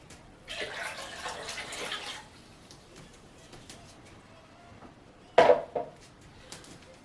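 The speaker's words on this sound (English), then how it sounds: "So I'm doing cups of water." Cups of water are poured into a container to make brine for a trout: a short splashing pour, then quiet, then a few sharp clinks and knocks from the vessel.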